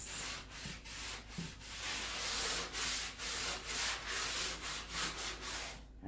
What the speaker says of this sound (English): sanding here just kind of brightens up the edges a little bit